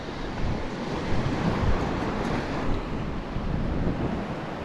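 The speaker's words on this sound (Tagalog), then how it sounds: "May alon dito no?" Wind and surf roar on open water off Palawan during a stormy fishing trip, a dense, steady wash that swells now and then, with buffeting against the microphone and no voices.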